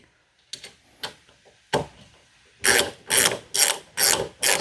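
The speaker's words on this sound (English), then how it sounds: "start your 5/8 bolt, take your 5/8 wrench," Ratchet wrench clicking as a 5/8 bolt is tightened into a slide-out actuator on an NXG through-frame slide motor; a few sparse early clicks, then a run of five loud, evenly spaced ratcheting bursts close up, with no talk.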